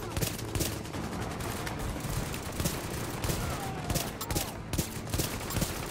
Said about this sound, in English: I'm just whittling away at this fucking grenade guy with my fucking pistol